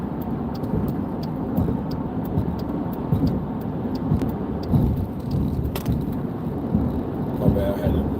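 Steady road noise from a car moving through traffic beside an 18-wheeler truck, a dense continuous rumble with some brief louder swells, heard from inside the vehicle.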